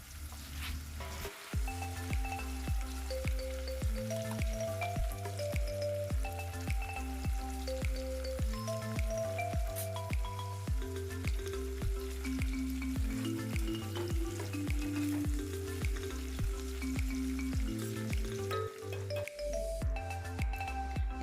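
Onions frying in a pan with a little sugar, stirred steadily while they brown for a chicken pulao; a soft sizzle runs throughout beneath louder melodic background music.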